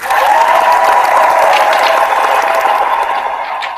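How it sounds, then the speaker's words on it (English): Applause for a tennis player, heard as a steady, dense wash of clapping that holds loud for nearly four seconds and then eases slightly at the end, with no talking over it. "I gotta give you a round of applause."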